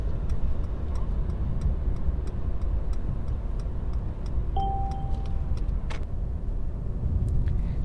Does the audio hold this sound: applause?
no